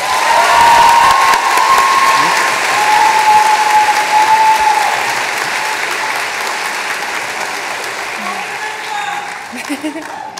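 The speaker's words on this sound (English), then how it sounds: "Please, let's give them a round of applause." Sustained applause from a large audience at an awards ceremony fills the room, loud at first and gradually thinning out, with a few scattered voices underneath.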